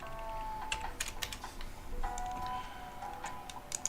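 Keys clatter on a nearby computer keyboard in quick bursts of clicks with short pauses, moderately loud over faint room hum during a live crypto chart analysis session.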